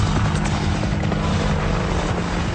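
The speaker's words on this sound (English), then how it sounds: "making it the most lethal multi-mission helicopter in the world." An Apache Longbow attack helicopter's rotor roars steadily and loudly throughout, a dense broadband drone with no voices or pauses.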